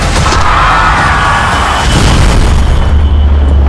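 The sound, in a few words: bomb explosion in a drama trailer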